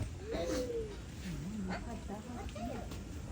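Soft, low ringneck dove coos repeat in short wavering phrases over a steady background hum, fairly close and moderately loud.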